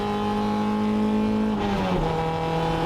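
Race cars on a wet circuit, engines holding steady high-pitched drones before one shifts and the pitch drops and rises again, with a spray-like wash of tyre noise; loud and close, no talking.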